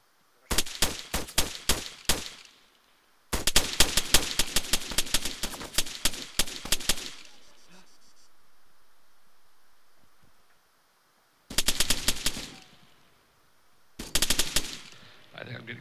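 Arma 3 gunfire: rapid automatic bursts of close, loud shots in several clusters with a quieter rustling pause between them, no talk heard over the firing.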